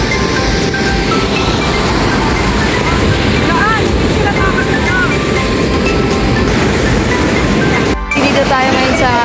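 Waves wash continuously near the shore on Siquijor, a loud, dense roar of surf that barely breaks off for a moment, with chirping or voices faintly above it.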